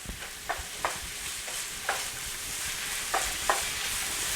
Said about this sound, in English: What we're gonna do right now is add the broccoli to the pan to rewarm it